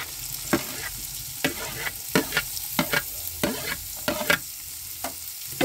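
Chopped carrots stir-fry in a hot pan for a carrot and pea curry, a soft constant sizzle broken by a run of sharp, irregular scraping strokes as a spoon pushes them around.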